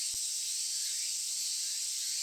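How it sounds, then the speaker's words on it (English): Cicadas in a summer scene from the visual novel Tsukihime, a dense, steady high-pitched shrill that drones on unbroken and fairly loud. "The sound of cicadas."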